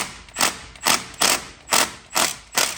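A ratchet wrench loosens a brake caliper bolt on a Honda Element, making six sharp, evenly spaced clicking strokes up close with no talking.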